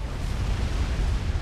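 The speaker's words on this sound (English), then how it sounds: "It's going to land and be a beautiful explosion." A nuclear missile strikes in the real-time strategy game Supreme Commander: Forged Alliance, a dense, sustained low rumbling blast that roars steadily without pause, with no voices over it.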